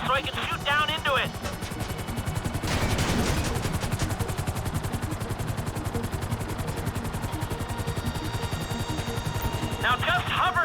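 Bursts of rapid gunfire over the constant thudding rotor of a hovering helicopter in Grand Theft Auto V, loud and close, with the rotor drone running throughout and short sharp volleys near the start and end.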